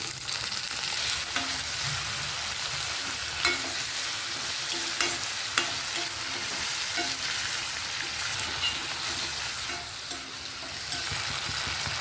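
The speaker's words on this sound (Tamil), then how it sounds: "இப்போ நம்ம சுண்டைக்காயை சேர்த்து ஒரு 3 நிமிஷம் வதக்கிடலாம்" Turkey berries sauté with onion and garlic in a pan, giving a continuous soft sizzle punctuated by regular spatula scrapes and clicks against the metal, heard up close without speech.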